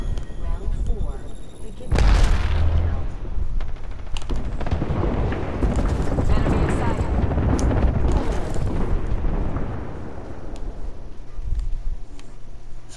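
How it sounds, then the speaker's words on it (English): Airstrike explosions in the video game Apex Legends boom and rumble loudly and continuously around gunfire during a firefight, with excited voices talking over the blasts. "Airstrike danger close"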